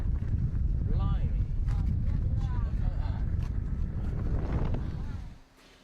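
Strong wind buffets the microphone with a heavy low rumble while a voice speaks faintly underneath; the gusting drops away near the end.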